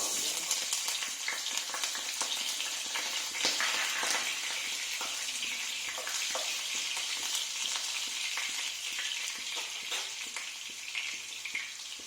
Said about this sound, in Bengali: এবার একটা শুকনো লঙ্কা একটু ছোট ছোট করে কেটে নিয়েছি একটু ফোড়ন দিয়ে দিলাম তারপর গাজরটা